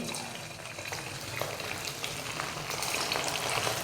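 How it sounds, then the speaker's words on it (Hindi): Chicken frying in a pan for chicken fried rice, a loud, dense, continuous sizzle that swells slightly toward the end, close up with faint crackles and no talk. "इस तरीके से सारे चिकन को हम इसी में फ्राई कर लेंगे।"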